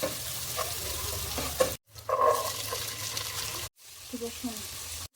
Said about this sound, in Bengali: তেল হালকা গরম হয়েছে, এখন পেঁয়াজ দিব।